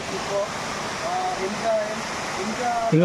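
Broadband rushing water from Pilligundam waterfall in dense forest, steady and moderately loud, with people talking over the roar throughout.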